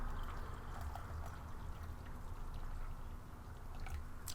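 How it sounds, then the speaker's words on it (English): Water poured into tea from a Malaysian 24-hour ration pack, a quiet continuous trickling splash that runs steadily for several seconds, close by, with no talking. "And then we'll just add our water to our tea."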